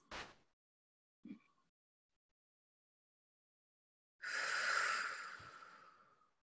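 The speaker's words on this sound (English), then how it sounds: "take a couple slow, deep breaths" Slow, deep breaths in a quiet room during a guided meditation: two short, soft inhalations followed by a long, airy exhale a few seconds later, with silence between them.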